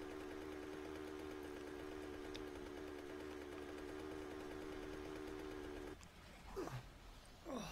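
Motorbike engine in the game 7 Days to Die idles as a steady, faint, rapid mechanical chugging that cuts out abruptly as it runs out of gas. Brief scuffing noises follow.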